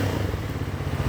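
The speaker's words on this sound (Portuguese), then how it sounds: "O ronco do motor é muito gostoso" A Triumph Speed 400 motorcycle engine rumbles steadily during a test ride, a loud, close, low throb with no speech over it.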